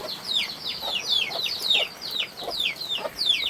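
A large hen clucks and squawks repeatedly in a rapid, uneven series of sharp calls, close and loud, with another bird faintly audible underneath.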